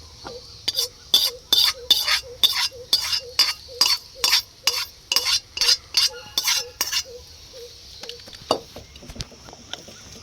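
Mango pickle is stirred and mixed with hot oil in a metal pan, producing about sixteen regular rhythmic scraping strokes with clinks, close and fairly loud, followed by a few scattered clinks.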